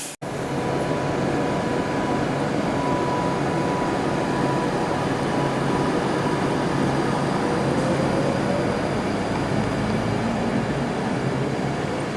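Class 730 electric train on test at Watford Junction on the West Coast Main Line, a close, loud, steady rolling rumble with faint tonal whine, no talking.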